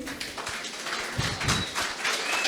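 Audience applause at a farm presentation, a steady patter of many hands clapping at moderate distance, fairly soft and continuous, with a few louder claps standing out midway.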